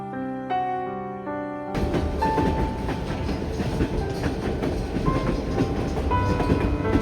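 A train runs along a mountain railroad through gorges toward snowy peaks near Skagway, Alaska, a steady rolling clatter of wheels on rails with rhythmic clicks, sustained and fairly close, after a brief musical opening.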